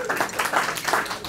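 Comedy-show audience at the Red Bike on Vashon Island applauding, a short burst of dense clapping from the crowd with a few cheers mixed in.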